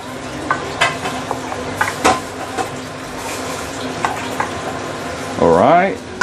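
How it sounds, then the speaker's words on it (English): Sweet and sour tomato sauce for fried pomfret heats to a boil in a pan, with close stirring scrapes and a steady bubbling sizzle; a brief squeaky tone rises near the end. "It is now boiling."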